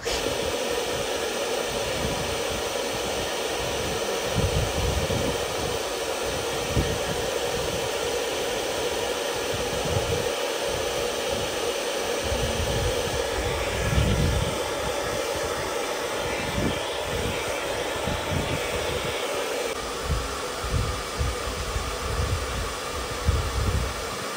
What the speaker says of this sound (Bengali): ব্লেন্ড করার পরে আমরা যেটা করব সেটা খুব সুন্দর করে কুল ড্রায়ার দিয়ে ড্রাই করে নেব